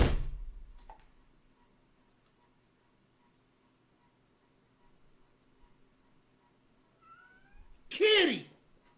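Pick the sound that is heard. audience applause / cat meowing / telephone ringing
cat meowing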